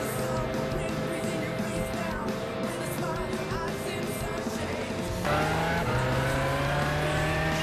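Lister Storm race cars pulling away at the start of a Gran Turismo 6 race: a dense, steady roar of several engines, with rising engine pitch and a shift partway through.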